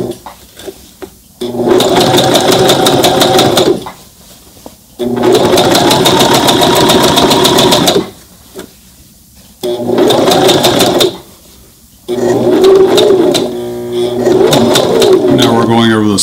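A Brother ST371HD sewing machine stitching over a jeans side seam: loud, rapid needle chatter in four bursts with pauses between, and a person talking during the gaps.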